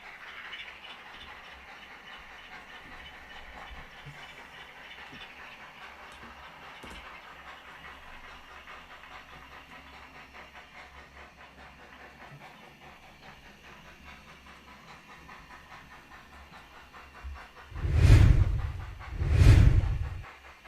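Model railway layout with several locomotives running, including a 9F steam model arriving: a quiet continuous rolling hum and soft clatter of wheels on track, then two loud bursts of steam hiss near the end.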